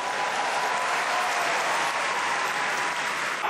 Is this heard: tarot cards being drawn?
no